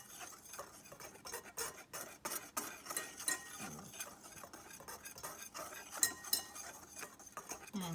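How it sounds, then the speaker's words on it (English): A whisk rattles and clinks against a bowl while mixing flour and salt, a quick irregular tapping and scraping that stays fairly quiet. "So I'm going to whisk those two together."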